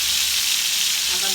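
Onion paste for a fish curry sizzling in hot oil, a loud, close, continuous frying hiss with no talk.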